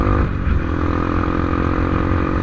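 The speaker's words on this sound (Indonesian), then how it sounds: "Gua mengendarai motor CRF guys" Honda CRF motorcycle riding along, its engine droning steadily and loudly up close with harmonic buzz, heading to a fish auction at Muara Binuangen.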